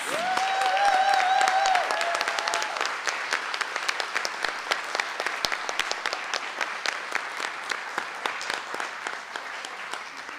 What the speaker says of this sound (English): let's give our junior high school speakers a big round of applause